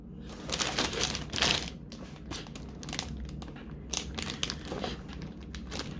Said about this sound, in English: Let's open the box.